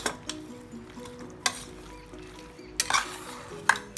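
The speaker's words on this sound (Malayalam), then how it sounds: "ഈ വെളിച്ചെണ്ണ ഇതിനകത്ത് ഒഴിച്ച് നല്ലതുപോലെ ഒന്ന് മിക്സ് ആക്കുവാണ്." Pork being mixed with coconut oil in a pot, heard as a few scattered clinks and scrapes of a spoon against the pot over a low, quiet background.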